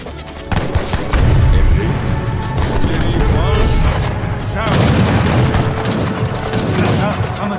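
Explosions in Age of Empires 3 as Ottoman weapons caches on Malta are blown up: a loud series of deep booms and crackling blasts, with a short lull around the middle, under game music and voices.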